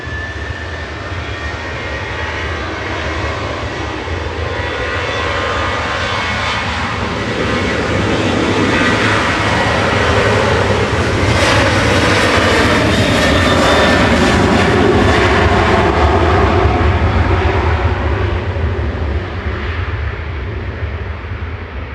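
A Ryanair jet airliner departs Manchester Airport for Tangier with a loud, building engine roar that grows from a steady rumble to a full, ragged thunder in the second half, staying powerful to the end.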